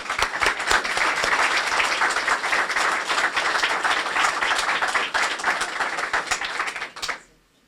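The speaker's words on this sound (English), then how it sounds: "So let's give Mark a loud round of applause." Loud round of applause for Mark at a St. Paul police chief's awards ceremony, steady dense clapping from a crowd for about seven seconds before it drops off abruptly.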